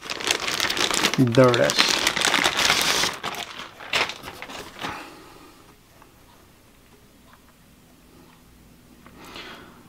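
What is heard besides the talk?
amplifier unit taken out of a plastic bag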